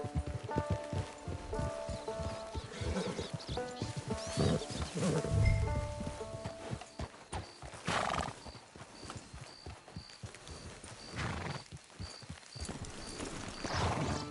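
Horse hooves clip-clop steadily in a video game, with a brief neigh partway through and soft ambient game sound running underneath.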